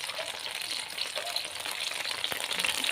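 Broth seasoned with pepper, garlic, onion and bouillon powder boils in a pot for Betawi capcay, giving a steady close bubbling hiss that holds evenly throughout, with no talking.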